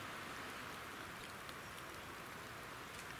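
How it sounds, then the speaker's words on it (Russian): Soft, steady hiss of rain falling, an even wash of faint pattering without pauses. "И дождь опять, надо бежать."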